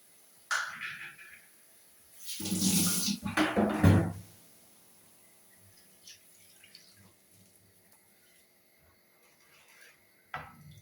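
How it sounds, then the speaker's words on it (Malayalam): Water splashes and swirls inside a mixer-grinder jar as it is rinsed and poured into a pot of chickpea curry, a loud burst of a second or two, then quiet kitchen background with a few faint clinks. "മിക്സിയുടെ ജാറ് കഴുകി കുറച്ച് വെള്ളം കൂടി ഇതിലേക്ക് നമുക്ക് ചേർത്ത് കൊടുക്കാം."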